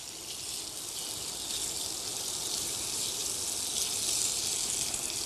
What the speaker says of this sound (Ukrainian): Викладаємо м'ясо і смажимо.